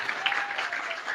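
Audience applause from a crowd at an Islamic sermon gathering in Sumenep, a steady wash of many hands clapping throughout, fairly distant and even.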